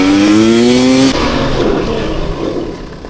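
A high-end enduro motorcycle revving hard on a test ride: a loud rising engine whine climbs for about a second, then breaks into a rough, gritty roar that slowly fades as the bike pulls away.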